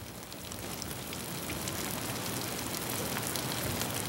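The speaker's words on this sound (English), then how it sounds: "A new day, a new rainstorm, but they don't last long." Steady, dense rain hiss from a rainstorm in the Canadian wilderness on a pike fishing trip, fairly loud and even throughout with no voices.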